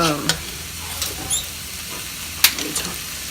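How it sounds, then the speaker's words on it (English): Vegetable rice frying in a pan gives a steady sizzle, with occasional sharp scrapes and clicks as it is stirred, up close and moderately loud. "Everything is cooked in here now"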